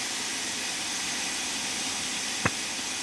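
A steady, loud hiss of steam escaping through the open cylinder cocks of a steam locomotive in Train Sim World 2 on the Liverpool to Crewe route. It fills the whole stretch without a break, and one short click sounds near the end.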